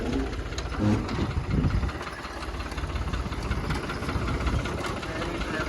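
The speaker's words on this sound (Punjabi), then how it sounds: "ਟਰੈਕਟਰ ਸਿੱਧਾ ਕਰਕੇ ਲਿਆ" A tractor engine idles steadily nearby during wheat harvest, a continuous low rumble with a knocking pulse and faint vibration, no talk over it.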